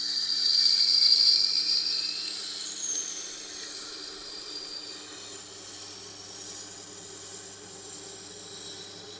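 A Tormek water-cooled sharpener grinds a steep new bevel onto a knife, giving a steady, fairly quiet hiss and whine that rises and falls gently across the passes, with a low motor hum beneath and no talking.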